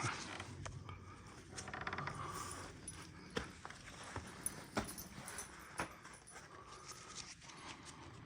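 An old barn door creaks faintly as it opens, with scattered knocks, clicks and soft footsteps in a quiet, musty space.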